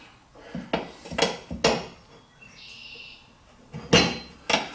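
Metal tire spoons prying a tire bead off a Cub Cadet tractor rim, making a series of sharp metallic clanks and knocks spaced irregularly, fairly close, with a faint squeaky scrape in between.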